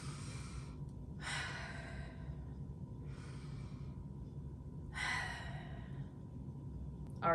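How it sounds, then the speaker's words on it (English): Slow deep breaths, each a long airy exhale drawn out over a second or so, repeating about four times close to the listener over a steady low room hum, with no talking. "let's do some deep breathing"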